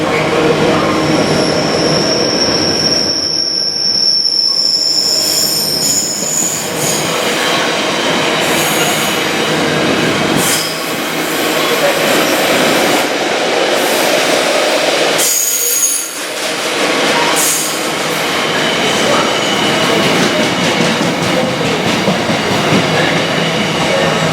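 A long Freightliner freight train rolls steadily past close by near Coventry for the whole stretch, wheels clattering and squealing on the rails with a constant heavy rumble.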